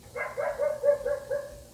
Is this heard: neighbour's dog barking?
yes